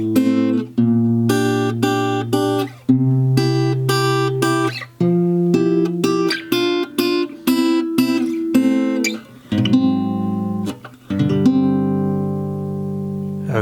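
Acoustic guitar picking the B section of the lullaby from Coco, clear sustained plucked notes and chords in a gentle, measured rhythm, close and alone.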